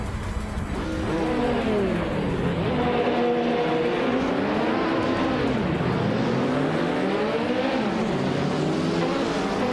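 Video game race cars at the start of a race at the Denver Pepsi Center track, several engines revving and accelerating together with rising and falling pitch, loud and close, with no talk.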